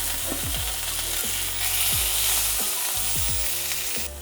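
Salmon fillet searing in a frying pan, a steady crackling sizzle interrupted every second or so by the scrape and clack of a utensil against the pan, close and loud with no talk.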